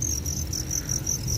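Breeding crickets kept for egg-laying chirp in a continuous, pulsing high trill, close and steady, with no voices.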